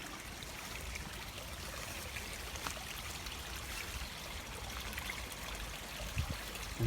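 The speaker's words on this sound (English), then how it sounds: "The hose is partially flowing, which it wasn't last night, which is fine." A garden hose by a pond, partly flowing, lets water trickle out in a steady, soft, continuous babble that stays low and even throughout, with no voices.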